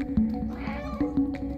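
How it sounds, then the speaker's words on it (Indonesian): A cat meows in the video game Stray, with several short mewing calls, moderately loud and close, over a steady low game ambience and without speech. "Coba kita meong."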